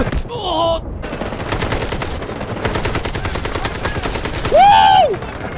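AK rifle gunfire in the game Delta Force, rapid repeated automatic shots in steady bursts, loud and close, with brief rising and falling game tones at the start and near the end.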